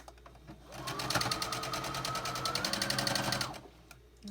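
A sewing machine stitches a quilt block in a steady, fast run of needle strokes lasting about three seconds, close and clear, starting and stopping cleanly with no talk over it.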